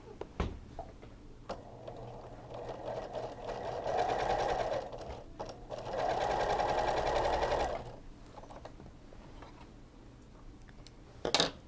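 A sewing machine stitches along the end of a quilt binding in two close bursts of rapid whirring, each a few seconds long, with a short pause between and a few faint clicks around them.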